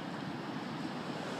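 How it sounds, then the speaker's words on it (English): Wind rushes across the microphone outdoors in blustery, rainy weather, a loud broadband roar that stays steady for the whole moment with no voices. "It's windy."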